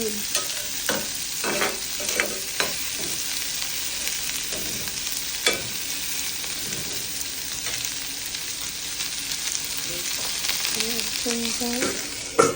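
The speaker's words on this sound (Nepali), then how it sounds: "अब प्याजलाई पनि मजाले रातो हुने बेलासम्म भुट्ने।" Onions frying in a pan for a chicken gizzard dish, a soft continuous sizzle broken by repeated scrapes and knocks of stirring, close and without speech.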